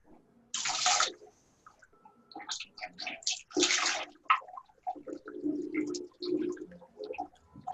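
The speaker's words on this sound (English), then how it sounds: "Somebody's pouring water in the kitchen or somewhere." Water poured or running from a tap in a kitchen, several separate gushing bursts with splashes and drips in between, fairly close and clear with no talking.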